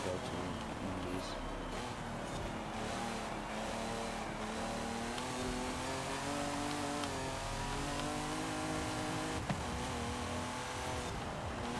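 Race cars in the video game Forza Horizon 5 rev and shift gears amid a dense, steady engine roar, with someone talking over the continuous racing noise.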